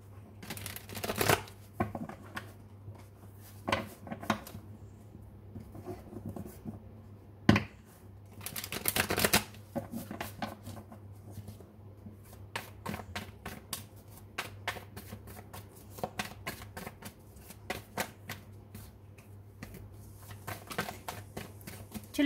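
Tarot cards are shuffled at close range, with repeated crisp riffling and flicking bursts over a low steady hum, continuing for a long stretch without talk.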